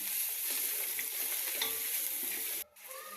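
Spices and salt sizzle and crackle steadily in a hot pan while being stirred for chicken biryani, a close, continuous frying hiss that cuts off abruptly near the end.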